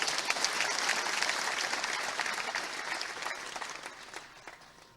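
Audience applause at a political rally addressed by Rajnath Singh, a dense wash of clapping from a large crowd, loud at first and slowly tapering off over several seconds.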